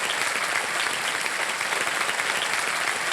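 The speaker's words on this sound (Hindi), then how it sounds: "तालियों के साथ इनका स्वागत हो जाए जोरदार" A studio audience on a televised quiz show breaks into dense, even applause that stays loud and unbroken for the whole stretch, with no talking over it.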